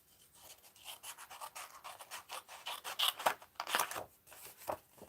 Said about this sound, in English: And I'm going to cut the Merry Christmas off here.